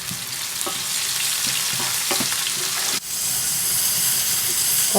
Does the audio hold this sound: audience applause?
no